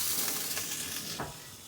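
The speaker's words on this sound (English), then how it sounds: "Hear the sizzle." Butter sizzles steadily in the oven while a Depression-era water pie bakes, a faint, continuous crackling hiss with a few small pops and no voices.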